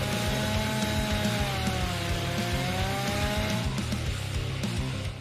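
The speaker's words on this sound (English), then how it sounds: "Chainsaw time!" A chainsaw runs steadily and loudly at home during a tiny house build, its buzzing drone holding for several seconds before easing off near the end.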